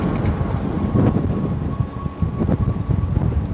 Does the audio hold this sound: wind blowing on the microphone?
yes